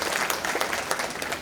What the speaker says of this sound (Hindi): प्लीज़ एक बार तालियां खुद के लिए